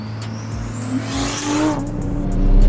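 A Lexus IS300 with a single-turbo 2JZ swap, built with the Turbo 400 removed, pulls at full throttle, its engine note climbing steadily in pitch and growing louder as the car accelerates.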